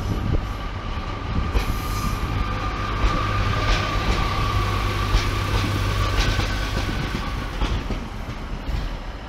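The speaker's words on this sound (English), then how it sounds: "a piece of train is leaving platform 11 or 12" A train bound for Chester rumbles steadily out of Manchester Piccadilly station from platform 11 or 12, with clattering wheels and a faint squeal, a continuous mechanical drone as it pulls away.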